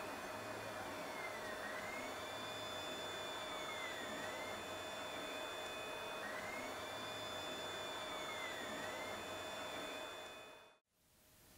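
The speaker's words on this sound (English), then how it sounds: "Here's one of my giant bearing blocks being printed." A 3D printer steadily prints a large bearing block from filament, its stepper motors humming with sweeping, repeating pitch glides as the head moves, continuous and fairly close until it cuts off abruptly near the end.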